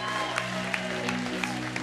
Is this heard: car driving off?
no